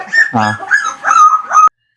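A golden retriever puppy at a pet shop in Trivandrum lets out a quick run of close, high yips and whimpers over about one and a half seconds, then falls silent.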